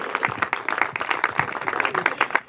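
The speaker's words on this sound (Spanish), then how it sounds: "Claro que sí, un aplauso" Guests at a quinceañera party with a youth mariachi band applauding, lively clapping with distinct individual claps in an uneven rhythm, close and moderately loud.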